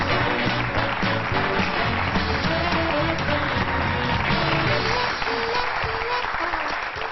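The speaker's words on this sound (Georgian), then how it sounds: "გვეჭიროს ეს მქუხარი აპლოდისმენტები" Thunderous applause from a TV studio audience on a game show, steady and dense throughout, with a voice speaking over the clapping.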